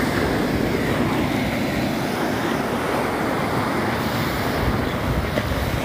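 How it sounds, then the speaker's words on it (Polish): Steady roar of aggressive ocean surf breaking on a beach at sunset, a continuous broadband wash with wind buffeting the microphone and no distinct individual wave crashes. "Ocean coraz bardziej agresywny"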